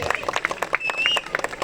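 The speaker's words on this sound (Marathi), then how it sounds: "टाळ्या प्लीज. जोरात टाळ्या वाजले पाहिजे." Guests at a birthday gathering break into applause, a dense burst of clapping with a thin whistle cutting through the middle, close and fairly loud over about a second and a half.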